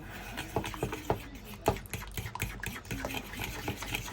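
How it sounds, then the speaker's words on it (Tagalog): A spoon scrapes and clinks as it stirs a cassava cake mixture of coconut milk and condensed milk in a bowl, a steady close-up patter of strokes. "Tapos ihalo natin."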